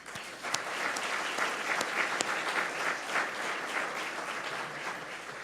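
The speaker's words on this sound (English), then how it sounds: "Please give all these young folks a round of applause." Luncheon audience applause in a banquet room: steady moderate clapping with a few sharper individual claps standing out, sustained throughout without talk.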